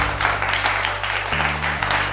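Audience applause at a family game show event, heard as a steady wash of clapping over a low background hum, filling the whole moment without talk.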